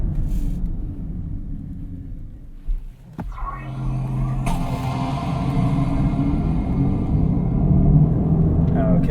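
A 2023 Mercedes-AMG EQS electric car launches from a stop, its low rumble building into a steady rising drive hum with road noise from inside the cabin.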